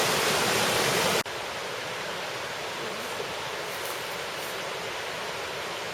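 A river flowing far below a trail crossing produces a constant rushing hiss; a louder burst of wind-like noise opens and cuts off abruptly, leaving the steadier, softer water roar alone.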